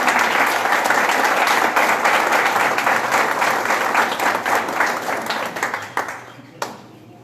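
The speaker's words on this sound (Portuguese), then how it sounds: "Acolhamo-lo em nosso meio com uma calorosa salva de palmas" A large audience at a church theological symposium gives a warm welcoming round of applause, loud dense clapping that holds steady, then thins out over the final second or so into a few scattered claps.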